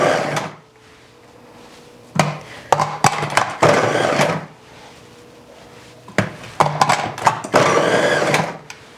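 A KitchenAid 13-cup food processor fitted with a dicing kit chops onion pieces in two loud, rattling bursts a few seconds apart, with quieter pauses between them.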